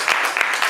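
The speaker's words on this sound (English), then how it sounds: "Please round of applause." Audience applause at a summit session, a short burst of clapping with a steady, even texture across under a second.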